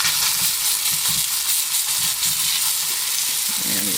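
A chicken patty sizzles loudly as it hits a hot frying pan, a dense continuous frying hiss with faint scraping underneath, close up and steady throughout.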